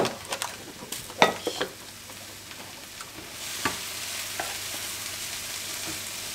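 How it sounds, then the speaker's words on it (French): Leeks sweating in a pan give a steady close sizzle, with scattered clicks and scrapes of a utensil stirring against the pan and no talk. "Et on va faire suer nos poireaux."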